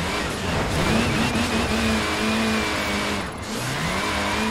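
Honda S2000 in Forza Horizon 4 revving hard through a drift, the engine note climbing and holding high with a brief dip near the end, loud and continuous with no talk.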